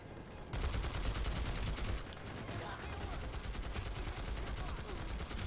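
The TMG-50 machine gun firing in the online shooter Planetside 2, a loud continuous stream of rapid shots with a steady mechanical rhythm from start to finish.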